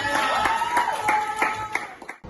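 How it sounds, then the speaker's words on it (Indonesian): Schoolchildren in a classroom clap together in a few rhythmic, evenly spaced bursts, fairly close and moderately loud, ending abruptly after about two seconds. "kasih tepuk tangan dong untuk kalian"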